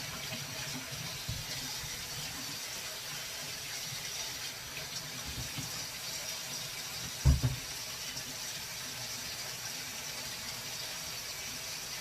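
A kitchen tap runs steadily while hands are washed during home cooking, a continuous close hiss of flowing water with one brief clunk partway through and no talk.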